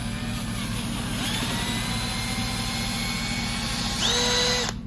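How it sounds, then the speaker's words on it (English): A power drill with a sanding adapter whirs steadily at close range against a headlight, its pitch rising sharply as it speeds up near the end. "put the adapter onto your drill and apply the grit as well."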